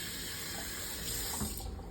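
Water runs steadily into the cooking pot used to boil pork ribs, a continuous close hiss and splash that lasts the whole moment with no talking over it.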